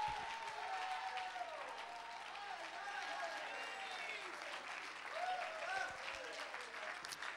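A church congregation claps and shouts in worship, a dense wash of hands and voices running steadily throughout, with a voice rising and falling above the din.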